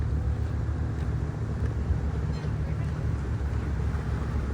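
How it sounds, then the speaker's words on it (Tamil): A boat moves along the water near Marina Barrage in Singapore, with a steady low engine rumble and wind noise continuing evenly throughout without a break. "இப்போ அடுத்த போட்டு அங்கே போகுது பாருங்கள்."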